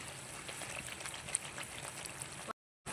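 Hyderabadi-style bagara baingan eggplant curry simmering on a stove, a faint, steady bubbling and crackling with soft irregular pops, briefly cutting to silence near the end.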